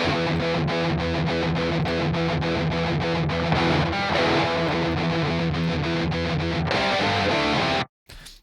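Electric guitar driven through a distortion pedal, playing loud, dense chugging riffs with rhythmic palm-muted strikes, ending in a sustained chord before cutting off abruptly.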